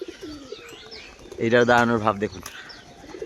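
Jhamar pigeons from Beldanga coo in a short, close, throaty burst, with someone talking before and around the calls.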